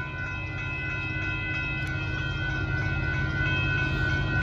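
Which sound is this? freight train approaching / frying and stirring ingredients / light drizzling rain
freight train approaching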